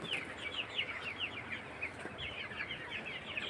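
Chickens cluck and chirp faintly while being fed, a scattered chorus of short, high calls spread across the flock at a moderate distance over a quiet background.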